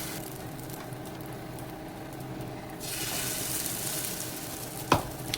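Bread slices dipped in egg batter fry in a pan, a soft background crackle that jumps to a loud, bright hiss partway through as more batter hits the hot surface, with a brief clatter near the end.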